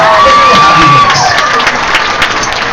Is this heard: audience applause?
yes